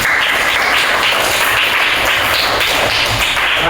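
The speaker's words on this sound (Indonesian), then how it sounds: "Tepuk tangan" A classroom of students applauds together during an Islamic religious education lesson, a loud, dense, steady wash of many hands clapping at once that fills the whole stretch without letting up.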